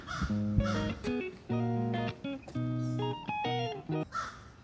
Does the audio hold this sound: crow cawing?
yes